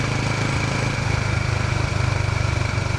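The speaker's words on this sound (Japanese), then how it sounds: "エンジンブレーキがかかる状態で少し手を離してみます" A Honda GB400TT single-cylinder motorcycle on new TT100GP tyres is ridden on the road under engine braking, its close, steady low thumping throb continuing with wind noise.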